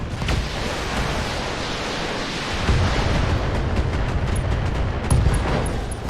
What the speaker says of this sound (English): Ooh, LRM ammo explosion.